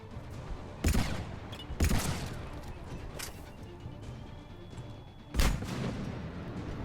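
Grenade blasts and gunfire in the video game Mass Effect, with several heavy booming hits spaced a second or more apart over a steady background of combat noise.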